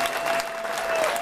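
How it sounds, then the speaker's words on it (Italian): A short burst of audience applause at the Premio Caccuri award ceremony, dense steady clapping from a crowd. "Gli facciamo un bel applauso"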